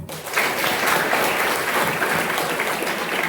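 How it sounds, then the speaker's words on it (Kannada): Loud, dense applause from an audience at a college cultural and sports event in Anekal, sustained evenly and close throughout. "ಅವ್ರಿಗೆ ಒಂದು ಜೋರು ಚಪ್ಪಾಳೆ ಮಾಡ"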